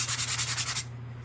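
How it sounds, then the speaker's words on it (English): A small sanding block lightly rubs a painted wooden strawberry cutout in quick, even back-and-forth strokes, close and clear, ending after about a second with no talk. "I am going to give this a little light sand just with my little sanding block from the Dollar Tree."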